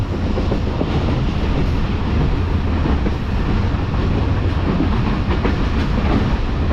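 The Pak Business Express passenger train running at speed between Rohri and Lahore, heard from on board as a loud, constant rumble with rapid rhythmic wheel clatter throughout.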